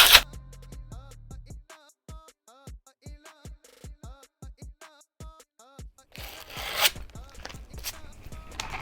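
A knife scores skateboard grip tape along the board's edges in a long series of short, evenly spaced scraping strokes, close and crisp. A brief burst of rough tearing or rubbing noise comes near the end.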